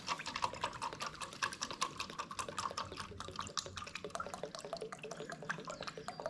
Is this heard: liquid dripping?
yes